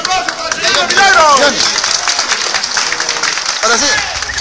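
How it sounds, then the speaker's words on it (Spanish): Crowd applause and clapping at an outdoor religious procession for the Señor de los Milagros, a loud, dense burst of many hands mixed with cheering voices and crowd chatter, fading somewhat while remaining under babble. "un aplauso para el Señor Milagro"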